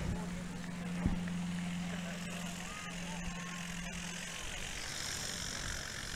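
A blue and white Cessna 170 drones through a STOL takeoff at a short takeoff and landing competition in Brainerd. The engine is a steady, moderately distant hum with a brief thump early on, and people talk over it.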